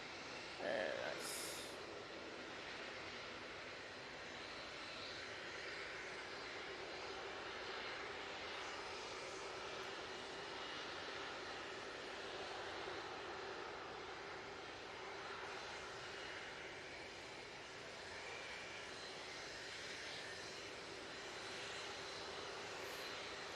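An Embraer Phenom jet taxis out for takeoff at Manchester Airport, a faint, steady distant engine whine and rush that persists evenly, with a brief sharp sound near the start.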